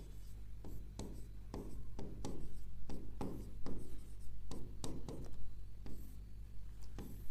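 Pen or chalk strokes scratching across a writing surface during a Hindi polity lesson, coming in short repeated bursts with brief pauses over steady low room hum.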